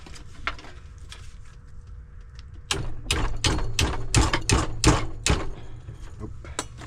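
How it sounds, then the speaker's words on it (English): Hammer blows ring out on metal while a grappling hook is being made, starting as scattered taps and then becoming a quick run of sharp, loud, evenly spaced strikes. "Use the hammer first."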